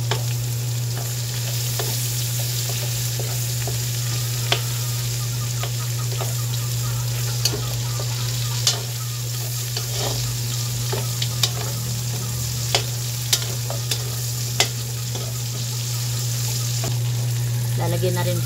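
Onion and garlic sauté in a hot pan with a steady, close sizzle, broken by sharp scrapes and clinks as a utensil stirs now and then, with a low constant hum underneath.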